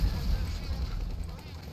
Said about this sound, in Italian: Fermatevi un attimo con le esplosioni.